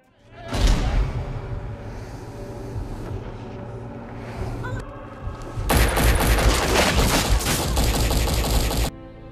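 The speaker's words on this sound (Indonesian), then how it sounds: "tiba-tiba saja terdapat banyak polisi yang menembak Blade" A vampire film scene of police opening fire: loud, dense bursts of rapid gunshots and booms over rumbling action noise, growing into an intense fusillade before stopping abruptly.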